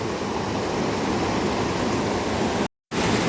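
Fast, cold mountain river rushing past in a dense jungle in Humla, a steady loud broadband roar of flowing water that cuts out briefly near the end before resuming.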